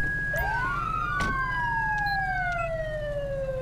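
Wailing police siren in Grand Theft Auto V under LSPDFR, two overlapping sweeps crossing as one rises and the other falls, loud and near above a steady low vehicle drone, with a brief thud early on.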